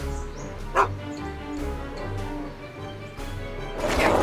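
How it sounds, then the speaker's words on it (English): A dog in the Back to the Future video game barks in a few sharp, close yips over a steady low game soundtrack. "Get away from me, you crazy mutt! Go away, dog."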